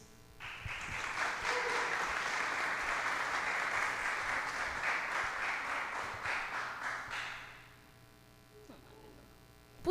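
Audience applause at a diocesan youth talent competition, a burst of clapping that rises quickly, holds steady for several seconds, then fades out into quiet room tone.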